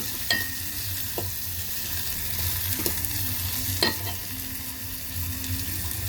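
Ginger, garlic, onion and tomato fry in a pan while a utensil stirs them, giving a steady sizzle broken by a few scraping strokes, close and alone with no talk.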